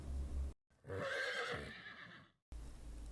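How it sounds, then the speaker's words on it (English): A horse on a farm gives a loud, clear neigh lasting about two seconds, a rising whinny that trails off, set apart by short silences. "Horse,"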